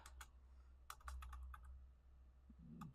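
Keystrokes on a computer keyboard as a username is entered, a few quick early taps, then a denser burst of clicks and a couple more near the end, close and fairly quiet with no talk.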